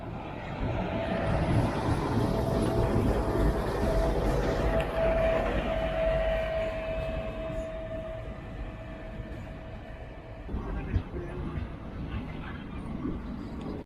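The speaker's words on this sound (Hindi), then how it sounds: "सो फाइनली ट्रेन आ चुकी है" The Mangalore–Mumbai superfast express rolls into a station with a loud, steady rumble of wheels and carriages and a sustained horn-like tone partway through, fading toward the end, with no speech.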